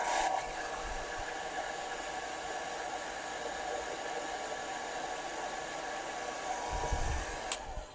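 A hair dryer blows steadily and close by, a continuous airy whooshing drone that runs unbroken the whole time, with no one talking.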